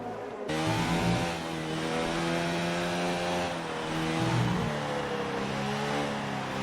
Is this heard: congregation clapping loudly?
no